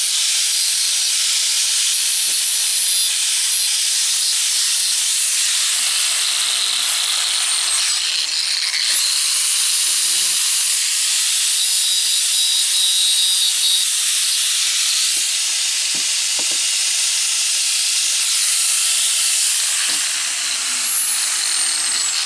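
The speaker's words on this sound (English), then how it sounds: "So I'm going to shape that a little bit on the grinder" A bench grinder shapes a piece of brake lining, giving a loud, continuous abrasive hiss that runs unbroken for over twenty seconds with slight shifts in pressure.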